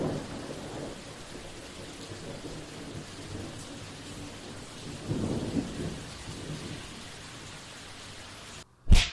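Steady rain with rolling thunder outdoors, a constant wash of falling water broken by a low rumble midway and a loud, sharp crack of thunder close by at the very end.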